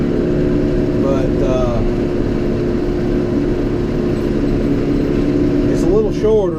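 A John Deere 5R tractor engine running steadily at a constant drone, loud and close, with someone talking over it throughout.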